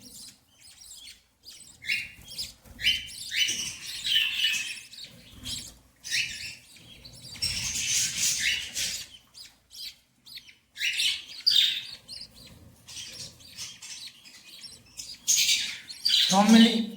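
Several pet birds kept in cages chirp and tweet in quick bright bursts throughout, close and fairly loud, with short squawks mixed in and brief pauses between flurries.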